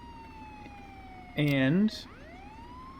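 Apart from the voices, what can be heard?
police car siren in the video game Contraband Police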